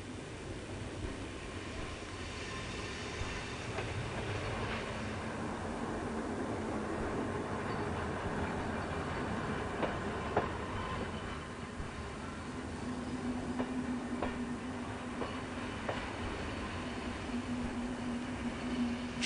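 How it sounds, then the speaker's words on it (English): Rumbling rail noise builds steadily as a modern red train rolls into Thun station, wheels and carriages humming, with a faint squeal of brakes toward the end. "Other passengers arrive at Thun on the bright red modern trains"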